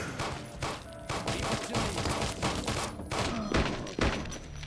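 Gunfire in the video game Fallout Nuclear Sunset comes as a rapid, uneven burst of repeated loud shots, several overlapping cracks over about five seconds, with no speech.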